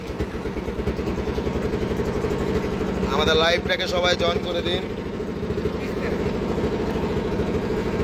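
A trawler boat's engine drones steadily as the boat crosses a river, a loud, continuous close hum with a voice speaking over it midway.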